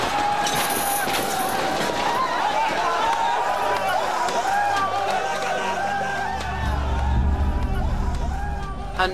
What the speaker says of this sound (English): Hundreds of Iraqi civilians taken to the city streets, cheering U.S. soldiers